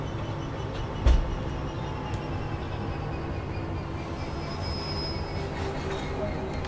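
A Class 66 diesel locomotive in Train Sim World brakes to a stop, giving a steady low rumble with a single thud near the start and a thin high squeal from the wheels partway through, with no talking.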